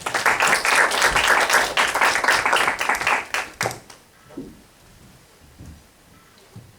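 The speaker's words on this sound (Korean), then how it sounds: "우리 박수로 환영하겠습니다" An audience claps warmly to welcome a professor coming up to give commentary at a Korean lecture on mathematics and faith, a dense burst of applause that tapers off after about four seconds into a quiet room.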